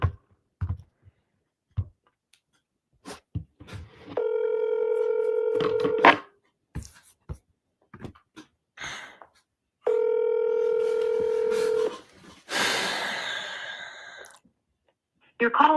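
A phone call is being dialed and rings out. A series of scattered clicks and button presses leads into two long, steady electronic ring tones with a pause between them, followed by a short noisy burst, all close and fairly quiet.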